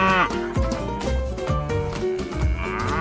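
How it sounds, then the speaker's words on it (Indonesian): A toy water buffalo gives a series of loud, drawn-out mooing calls over a busy background, heard while toy animals are unloaded from a pink toy house during play with toy trucks. "Wow, lihat Besti, di sini ada kerbau irang"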